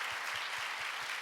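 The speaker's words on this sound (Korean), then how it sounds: "우리 찬양팀 박수 한번 해줬으면 좋겠습니다." A church congregation applauds its worship team continuously, with clapping that falls into a steady, rhythmic beat.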